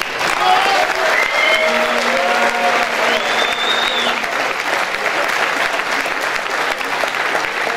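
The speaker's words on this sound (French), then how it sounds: "On peut les applaudir s'il vous plaît." An audience at a closing ceremony for an integration week applauds the organizing team, a loud, sustained wall of clapping with some whistles and cheers riding on top.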